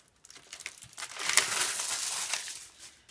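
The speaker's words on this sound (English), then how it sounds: "I'm going to peel the clear part off." Crinkly plastic rustles and crackles as a thin clear backing sheet is peeled away while making a pencil holder, rising from brief crackles into a sustained peeling sound, close up.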